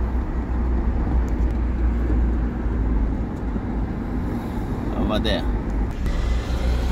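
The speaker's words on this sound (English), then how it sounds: "So driving slowly, very few cars now." A car driving slowly along a quiet road in Kenya near a market, giving a steady low engine and road rumble throughout, with a voice briefly speaking near the end.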